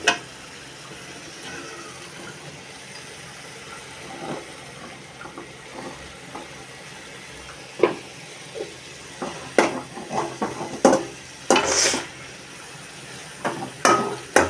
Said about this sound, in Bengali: আলু দেওয়া হয়ে গেলে আমরা এখানে একটা নাড়াচাড়া করবো।